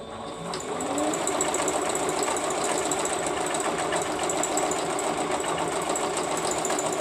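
A sewing machine stitches down an applique, running in one steady, continuous mechanical whir that starts softly and then holds an even level throughout.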